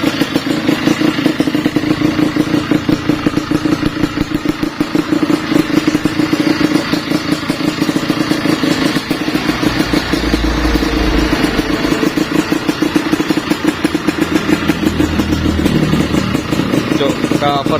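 A Husqvarna trail motorcycle with a Kawasaki Ninja engine runs steadily with a low, rattling idle throughout, and someone talks over it.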